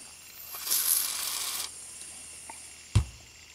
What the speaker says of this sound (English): We've got our Deoxit sprayed down.